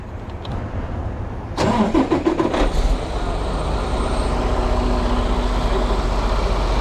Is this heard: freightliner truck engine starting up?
yes